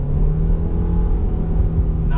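The engine of a Honda Accord CL9 drones steadily under throttle while its worn-out clutch slips, giving a loud, constant low engine hum with little change in pitch, heard from inside the car.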